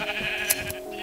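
Sheep bleat underground in Minecraft, a short wavering call rising over a steady background hum, close and moderately loud.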